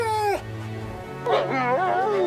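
A cartoon wolf whimpers in high, wavering whines that bend up and down, with a short pause between two close, fairly loud bursts.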